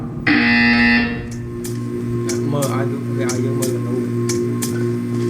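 Portal 2 test-chamber buzzer, a loud sustained electronic drone lasting about a second, followed by a low ambient hum with a series of faint, evenly spaced ticks.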